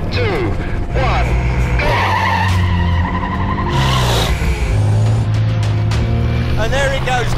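The Volvo Iron Knight race truck accelerates hard down a track, its engine roaring loudly and climbing in pitch through gear changes, with a person talking over the noise.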